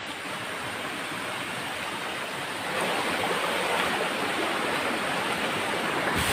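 The Old Buruwisan waterfall in Siniloan, Laguna roars steadily up close, a dense continuous rush of falling water that swells slightly louder midway.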